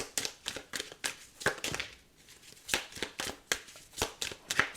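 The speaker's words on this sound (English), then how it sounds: "I've just shuffled and then I split the deck" Tarot cards are shuffled in crisp riffling bursts, a steady run of sharp flicks with a brief pause midway, close and fairly quiet.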